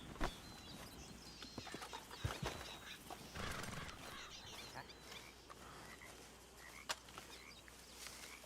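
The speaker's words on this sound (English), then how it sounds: "I need to get my horse." A horse in a Western ranch roleplay video game clip-clops along a winter road with its hooves, irregular and moderately faint, mixed with occasional clicks and a distant whinny-like call.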